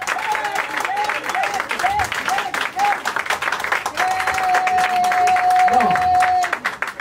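A congregation at a Christian wedding applauding, sustained dense clapping that swells and carries on throughout, with a voice speaking over it and a sung or held note partway through.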